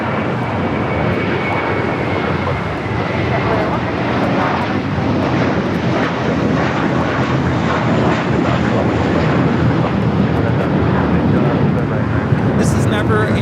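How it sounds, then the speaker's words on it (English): A JetBlue Airbus A321 airliner takes off at Los Angeles airport, its jet engines roaring in a loud, steady, broadband wash for the whole stretch, with a voice talking over it. "taking off to Fort Lauderdale, JetBlue Flight 100 on the A321"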